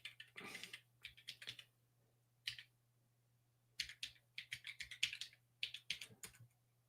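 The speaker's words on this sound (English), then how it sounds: "Typing it very slowly and strategically on this keyboard that has home row" Slow, deliberate keystrokes as a password is entered on a computer keyboard with home row mods, clicking in short irregular bursts separated by pauses, close and fairly quiet over a faint steady hum.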